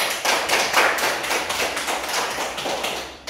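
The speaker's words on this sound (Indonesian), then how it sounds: "Beri tepuk tangan buat kelompok buah" A group of people in a classroom-style gathering claps for another group, a dense patter of many hands that stays fairly even and close before tapering at the end.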